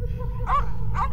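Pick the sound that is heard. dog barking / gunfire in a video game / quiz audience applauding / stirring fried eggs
dog barking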